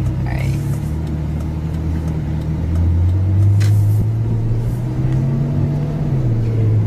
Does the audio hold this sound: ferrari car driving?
yes